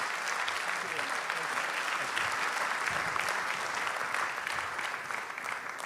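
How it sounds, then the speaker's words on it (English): An audience at the European Athletics Golden Tracks awards ceremony applauds national winners with sustained, dense clapping filling the hall at a steady level throughout. "please, your applause again for all of our national winners and our two special guests on the stage"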